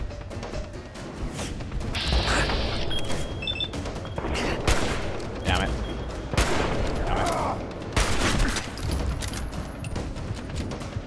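Bursts of gunfire in the post-apocalyptic shooter Fallout 4, with dense volleys of shots and crashing impacts filling the scene at close range, some talk mixed in.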